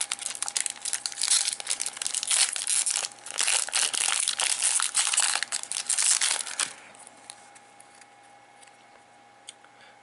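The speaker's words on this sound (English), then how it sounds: "Ripping this pack open." A Sword Art Online booster pack's foil wrapper is crinkled and torn open close up, with loud, busy crackling for several seconds that stops abruptly, leaving faint handling ticks.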